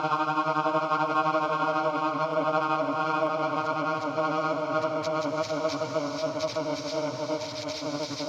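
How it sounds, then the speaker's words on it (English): A warbling, densely layered synthetic drone made with Ableton's Granulator II, a weird space-alien effect with a fluttering texture, steady and moderately loud, with no talking. "weird space alien sound effects or something like that"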